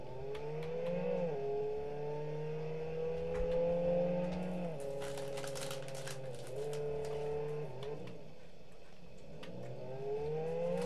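Engine of a yellow car driving in the Roblox game Jailbreak, a steady synthetic drone whose pitch rises and dips with shifts in speed, joined by scattered clicks and crackle, moderately loud with no talk.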